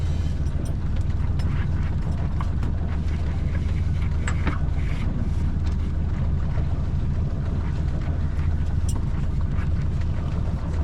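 Sailboat under sail on the Solent out of Chichester Marina in a light breeze of around nine knots, with steady wind rush, water wash against the hull and occasional creaks of rigging throughout.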